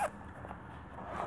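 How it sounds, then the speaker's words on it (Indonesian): A zipper on a school bag is pulled open in a short, faint, raspy run near the microphone, with a small click at the start and quiet room tone around it. "Depannya ada 2 resleting bisa buka"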